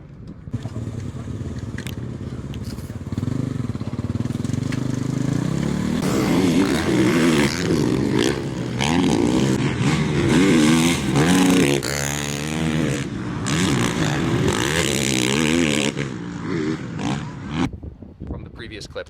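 A Honda 450 motocross race bike ridden and revved, its engine loud and close, rising and falling through throttle bursts for most of the run before easing off near the end.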